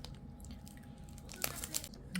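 Crisp monaka wafer filled with chocolate crunches between teeth, a few sharp close bites and crackles over quiet chewing, with no talking.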